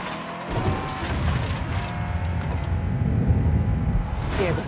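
A car in the Mafia 3 video game approaches, its engine droning loud and steady while tires skid and scrape, the rumble filling the whole stretch with no talk.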